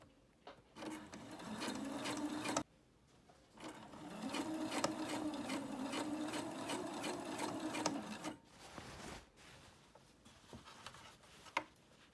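A domestic sewing machine stitches an invisible zipper a few millimetres from the fabric edge with its presser foot, running in two sustained rapid bursts separated by a short pause, followed by quieter handling sounds.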